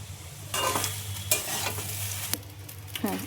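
Cumin seeds dropped into hot oil for a paneer sabji set off a burst of sizzling and crackling, with stirring scrapes and sharp spikes over a low hum.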